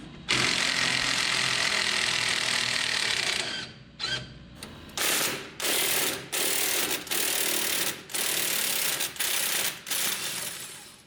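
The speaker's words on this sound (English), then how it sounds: "Remove the 3 upper shock mounting nuts using an 18mm socket or wrench." A socket wrench ratchets in one long continuous run, then in a series of short bursts separated by pauses, while loosening bolts on a truck's shock mounts and sway bar links during a suspension install, close and clear with no talking.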